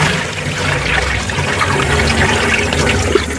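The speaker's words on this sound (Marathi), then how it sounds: "आणि हे चाळणीवर पाणी असं काढून टाकायचं." Water drains through a sieve from freshly washed, soaked wheat grains, a steady close splashing trickle that runs continuously for a few seconds without any talk.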